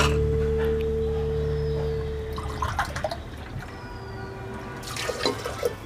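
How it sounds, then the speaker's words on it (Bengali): Water pours from a medium cup into a cooking pot of dalia and moong dal khichuri, a splashing trickle under a steady low hum, with clinks and another pour near the end. "আমি 3 কাপ জল আমি এখানে দিয়ে দেবো।"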